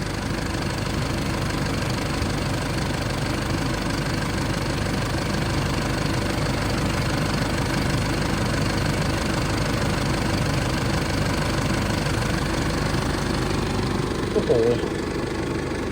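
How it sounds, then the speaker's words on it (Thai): A 2005 Isuzu MU-7 3.0 CommonRail diesel engine idling steadily with a loud, continuous knocking rumble, heard close up from the engine bay throughout. "โอ้โหเสียงเครื่อง พี่ๆลองชมลองดูกันนะครับ"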